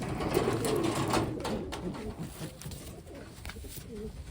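Wantai pigeons coo in soft, low, repeated calls, fairly close by, with faint mechanical clatter and background shuffling but no clear talk.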